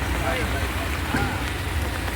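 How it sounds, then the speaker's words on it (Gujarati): Steady rain patters down on the Gondal fairground in a dense, even hiss, with faint background noise and no clear voices. "સવારનો વરસાદ છે, રાત સુધી વરસાદ ચાલુ છે."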